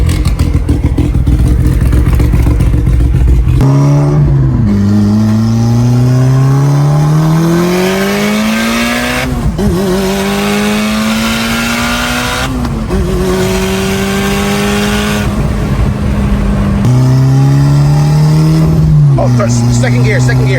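A tuned Mitsubishi Evo's engine, loud and close, revs up through repeated climbing pulls, each rising in pitch before dropping sharply at a shift, with mechanical clatter between pulls.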